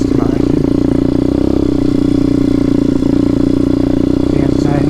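Demon X 170 Detroit motorcycle riding hard on a private road to pass a vehicle, a loud, close, steady engine drone with wind rumble throughout.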